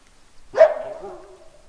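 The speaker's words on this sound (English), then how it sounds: "Got a warning call from a coyote over here." A coyote in the hunting game theHunter: Call of the Wild gives a single sharp warning bark followed by a drawn-out, fading yelp, heard alone and fairly close.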